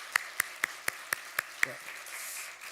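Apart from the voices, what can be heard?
church congregation clapping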